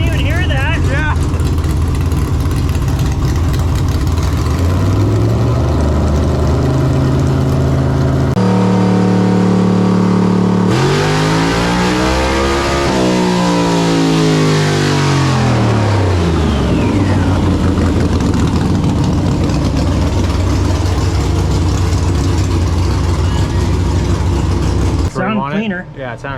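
A small-block Ford V8 fitted with Sniper EFI and nitrous runs loud on a dyno, its engine note sweeping up through a long pull and then dropping back, with voices talking over it.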